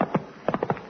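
Horse hooves clip-clopping as a radio comedy sound effect, a short burst of hoofbeats, then a quick run of four or five more, close and crisp against a quiet background.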